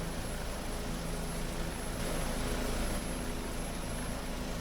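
Helicopter flying over the Machmell River delta in British Columbia: a steady, close, continuous rotor and engine roar that holds level throughout with no voices.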